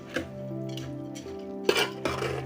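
Sugar-syrup-soaked boondi is stirred for laddoos with a spoon, giving close, soft squelching mixing sounds punctuated by a few sharp clinks of metal against the pot.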